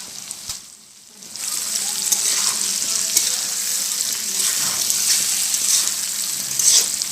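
Chicken curry sizzles steadily in a pan with chili powder and garam masala, a close, continuous frying hiss with faint stirring clinks and a brief dip near the start.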